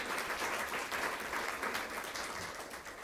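An audience at a school district board meeting claps for high school students being recognized, a steady even patter of many hands at moderate distance lasting a few seconds, without talk.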